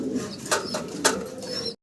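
Big-size fancy pigeons on a farm coo softly, with a few sharp rustling bursts like wing flutters, all close by and without any talking.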